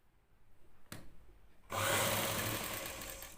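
A sewing machine runs steadily while stitching the shoulder seam of a plain blouse, a soft tap first, then a continuous close whirring drone that holds for over a second, with no talking.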